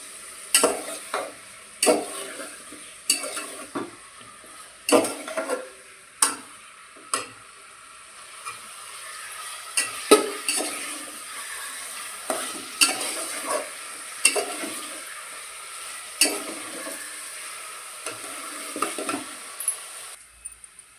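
Chicken coated with turmeric and garlic fries in a pan, a steady soft sizzle broken by frequent sharp scrapes and clinks of a spoon stirring against the metal, close and moderately loud without talk.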